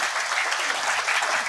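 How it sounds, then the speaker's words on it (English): Dense audience applause at an international seminar, many hands clapping steadily together at a fairly loud level throughout, with no talk over it. "you can clap your hands loudly for the next generation"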